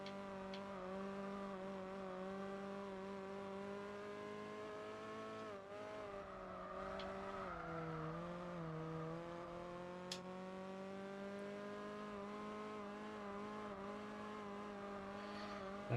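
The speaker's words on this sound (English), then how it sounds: "they did redo most of the engine sounds in Spec 2, but like, it's not nice the way it's being revved" Race car engine in Gran Turismo 4 held at a steady high rev with sustained harmonic drone, dipping briefly and climbing back, with faint tire squeal, continuous and close for the whole stretch.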